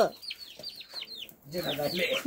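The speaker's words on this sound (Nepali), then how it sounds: "यहाँ चाहिँ भाले बनाइराख्नु भएको छ" A rooster nearby gives a quick series of short clucks, then a fuller, throatier call, all close and fairly loud.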